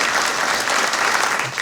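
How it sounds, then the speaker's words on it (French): Sustained applause from an audience at a local political meeting in Cogolin, a steady wash of clapping with no gaps through the whole stretch. "sous vos applaudissements"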